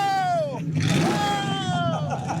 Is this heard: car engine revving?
yes